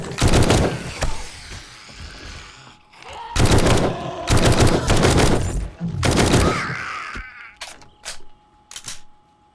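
An automated turret in the zombie survival game 7 Days to Die fires in loud, close bursts of rapid shots, with several separate volleys broken by short pauses.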